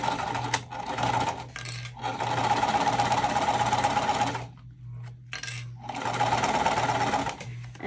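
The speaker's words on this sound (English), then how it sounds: "And I am sewing that at 3/8 inch seam allowance." A sewing machine stitches a zipper onto water-resistant canvas with a zipper foot, running in steady rapid bursts of needle chatter and motor hum, pausing briefly between runs and then starting up again.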